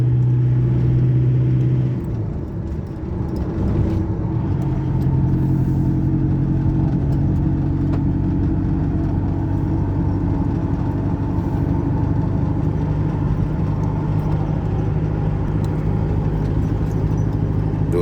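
A car engine hums steadily as the vehicle drives, a continuous low drone with road noise, loud and close, with no talking.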